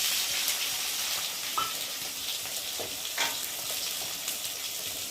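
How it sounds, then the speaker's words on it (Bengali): Spices, ginger paste, chopped tomato, cumin and chili powder frying in a pan, a steady close sizzle and crackle throughout with a few brief stirring scrapes. "আমি মশলাটা ভালো করে কষিয়ে নেব"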